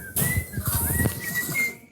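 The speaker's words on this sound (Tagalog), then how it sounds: "Ang ibong kakatil, kapag siya'y sumipol, dumadapo na sa nakataas niyang mga kamay." A man whistles to call birds, giving a short, clear rising and sliding whistle lasting under two seconds, close and moderately loud over soft background noise.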